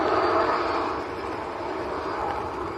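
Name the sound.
Cessna Citation business jet taxiing at Manchester Airport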